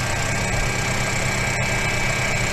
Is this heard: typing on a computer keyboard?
no